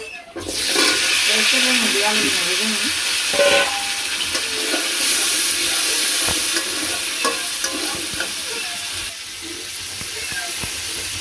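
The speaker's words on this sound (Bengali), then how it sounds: "আর এই যে পাশে তেল দিয়ে বড়া ভেজে নিই" Bora fritters frying in oil beside a pan of cooked fish, a steady loud sizzle with occasional stirring and scraping, continuous throughout with no voice.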